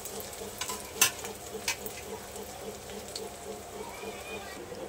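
Onion and curry leaves fry in oil with a quiet, continuous sizzle, and a few sharp spatula taps stand out early on.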